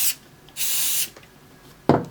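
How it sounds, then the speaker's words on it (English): Short hissing bursts of aerosol coolant sprayed onto hair clipper blades, two close blasts with a pause between and a softer puff at the end. "Get your coolant, or your Cool Care. You're going to spray both,"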